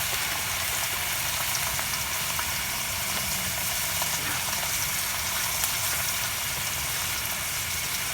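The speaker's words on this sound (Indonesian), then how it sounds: "Goreng asin baraya ah." Salted fish fries over a campfire at a bamboo bushcraft camp, giving a steady, dense sizzle and crackle that stays loud and even throughout with no talking.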